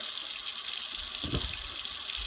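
Warm tap water runs steadily into a kitchen sink, a soft continuous hiss and trickle with a brief splashy surge midway and no talking.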